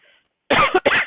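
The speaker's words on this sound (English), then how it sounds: "I have a little bit of a cough because of my sinuses" Two quick, close coughs in a row, loud and near, after a brief quiet moment.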